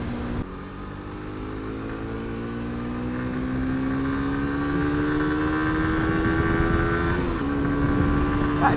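A Suzuki GSXR125 motorcycle being ridden and accelerating, its engine note rising steadily in pitch over several seconds with a brief gear-change dip near the end, loud and close with wind noise.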